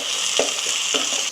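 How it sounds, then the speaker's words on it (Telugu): Onions frying with freshly added coriander paste in a pan, a steady close hiss with a few soft stirring scrapes and no talking. "కొద్దిగా గోల్డెన్ కలర్ వచ్చేంత వరకు వేపుకుందాం"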